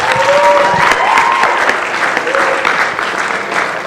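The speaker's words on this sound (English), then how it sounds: "So can we just have a round of applause for that?" Audience applause following a request to celebrate alumni donations during a community call, steady dense clapping throughout with a few faint whistles or cheers mixed in.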